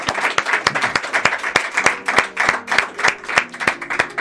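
An audience applauds a senator at the close of a Chilean political and economic talk event, a dense burst of hand clapping that stays steady and close for the whole stretch.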